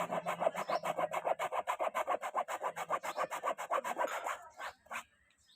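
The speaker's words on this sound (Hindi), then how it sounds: "यहाँ पे हमने एक्सेल स्टेन रिमूवर लगा के ब्रश कर दिया" Stiff brush scrubbed back and forth over Excel stain remover worked into a tea stain on coloured fabric, about two dozen quick rhythmic close-up rasping strokes that slow and stop near the end.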